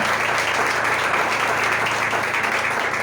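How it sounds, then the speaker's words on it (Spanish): A church congregation applauds its 24th anniversary with sustained, dense clapping, loud and even throughout with no break. "¿Cuántos damos un aplauso por esos 24 años, ¿verdad?"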